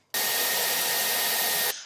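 Up close, a hair dryer blasts onto hair in one short burst: it switches on sharply, holds a loud, even airy roar with a thin whine for about a second and a half, then stops.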